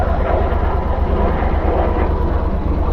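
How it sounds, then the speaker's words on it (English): A fighter jet from Andrews Air Force Base roars overhead, heard as a steady broadband rumble above a street in Southeast DC, constant and fairly loud for the whole stretch with no voices. "there's a jet flying over us from Andrews Air Force Base"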